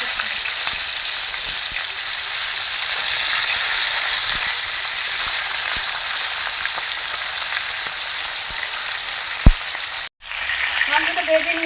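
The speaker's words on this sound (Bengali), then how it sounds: "মাংসটা ভেজে নিয়েছি, নামিয়ে নেবো।" Chicken pieces frying in a pan for homemade biryani give a loud, continuous close sizzle with occasional faint stirring ticks, cut by a sudden thump near the end.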